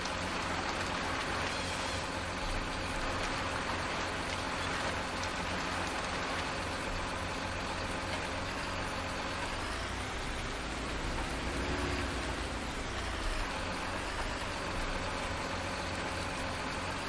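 Dense, steady hiss of rain pouring down in the video game Irgendwo in Thüringen 2, a constant wash of noise with a faint low rumble underneath.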